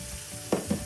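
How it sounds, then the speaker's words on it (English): Sea-salted water boiling in a pot on a stove for cooking pumpkin seeds, giving a brief close hiss with two short bubbling bursts over a steady background. "I'm getting some sea salted water boiling over here"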